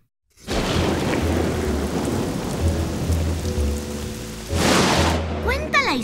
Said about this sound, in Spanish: en una noche de tormenta